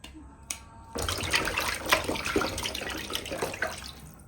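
Rohu fish ring pieces being rubbed and rinsed in water, a short splash followed by a steady run of gurgling, sloshing water with small knocks, close and moderately loud, no talk.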